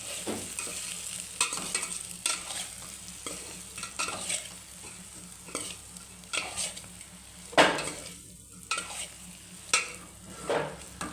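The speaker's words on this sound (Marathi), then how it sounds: "सर्व मिक्स करायचं" Drumstick pod dry curry being stirred in a pan, with repeated scraping strokes over a steady low sizzle, close and moderately loud, in an irregular rhythm and with no talk.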